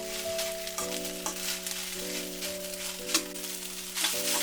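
Okra (lady's finger) stir-fried in a pan for a dry poriyal: a continuous close sizzle with repeated spatula scrapes every second or so, over a steady tonal hum, and no voices.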